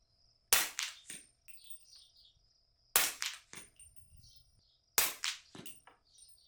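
Three sharp gunshots from a .338 pistol firing 338 Sub X rounds, spaced about two seconds apart, each with a quick echoing tail and no talk.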